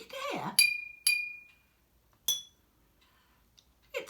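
A glass jam jar filled nearly to the top with water is tapped a few times, giving bright ringing clinks that fade quickly, close and clear after a brief bit of speech.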